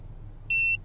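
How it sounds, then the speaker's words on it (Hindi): A short electronic beep from an alarm being set for the night prayer, one steady tone lasting about a quarter second over a quiet room hum and a faint constant high whine. "तहज्जुद का अलार्म लगाना है"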